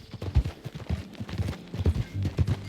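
Hooves of a horse clip-clopping at a steady walking rhythm in the video game Red Dead Redemption 2, moderately close and fairly quiet, with no talking over it.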